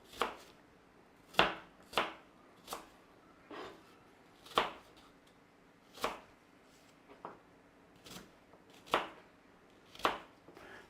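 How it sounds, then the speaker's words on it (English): A knife cubing cored apples on a board makes about a dozen sharp, close chops in an uneven rhythm, separated by quiet pauses, with no voices. "And then we're going to cube these apples."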